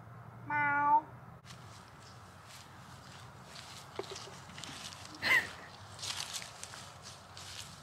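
A single clear cat meow near the start, followed by quiet background with faint rustling and a few soft thumps.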